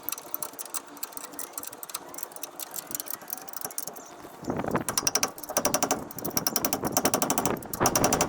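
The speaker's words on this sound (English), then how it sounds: "So we're going to be tightening up these bolts." A ratchet tightens the bolts on a brake caliper mount, giving rapid, even clicking that turns louder and denser about halfway through, heard up close in bursts with short pauses.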